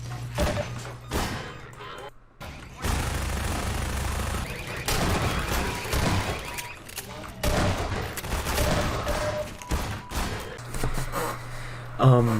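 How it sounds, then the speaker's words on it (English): Shotgun blasts and other gunfire from the video game Half-Life 2 come in dense, loud bursts with thuds over continuous game noise, and a voice can be heard at times. "that was like 3 shotgun shots in like 2 seconds"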